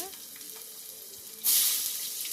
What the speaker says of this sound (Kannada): ಎಣ್ಣೆ ಕಾದ್ಮೇಲೆ ಸಾಸಿವೆ ಹಾಕಿ ಚಟಪಟ ಅಂತ ಸಿಡಿದ್ಮೇಲೆ ಹಿಂಗೆ ಹಾಕ್ಕೊಳ್ಳಿ